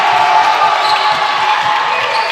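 A crowd roars steadily in a school gym after a three-pointer in a high school basketball game, Maranatha vs. Quentin Road, a loud sustained cheer with faint ball thumps underneath.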